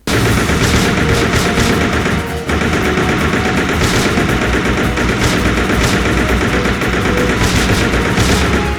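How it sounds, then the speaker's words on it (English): Continuous rapid gunfire from the Resident Evil Survivor 2 game on PS2, fired non-stop at cockroaches, loud and dense with no break except a brief dip partway through, and no talking. "you just blast roaches"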